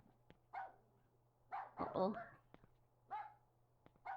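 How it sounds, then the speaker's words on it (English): A dog in the video game Rule of Rose barks several times at a distance, short yelps spaced about a second apart over a low hum, with a brief spoken exclamation in the middle. "Oh, you guys are hearing the dog."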